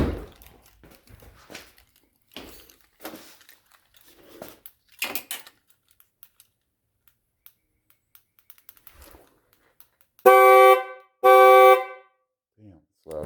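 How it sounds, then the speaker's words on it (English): Two loud, blaring horn blasts on an Infiniti G35 / Nissan 350Z, each about a second long, following a stretch of quiet clicks and handling noises. "Now we're gonna test the horns."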